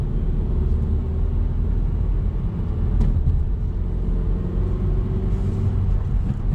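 A manual transmission car pulling away from a stop and accelerating through its gears, heard as a steady, loud engine and road rumble from inside the cabin with no clear breaks.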